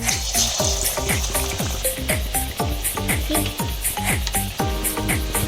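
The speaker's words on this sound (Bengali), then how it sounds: "এবার আমি তেলে ছেড়ে দেব।" Banana flower fritters dipped in gram flour batter sizzle and crackle in hot oil, with a regular series of sharp clinks or taps cutting through the continuous bubbling fry.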